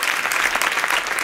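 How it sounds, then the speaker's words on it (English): An audience at a White House HIV event breaks into loud, dense hand clapping, a short continuous burst of applause with no speech on top. "you ought to clap your hands and give the President."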